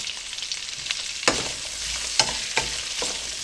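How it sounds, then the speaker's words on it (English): Sausage and chopped onion frying together in a pot, producing a steady close sizzle marked by a few sharp spatula scrapes and clanks, with no talking. "Since I'm already cooking the sausage in there, I'm going to go ahead and cook that onion in there"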